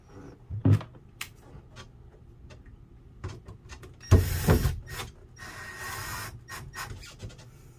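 Screws are driven in while a ceiling panel is refitted on a Grady White 325 Freedom boat. Several short mechanical clicks and ratcheting bursts come first, then a louder whirring run and a softer sustained grind.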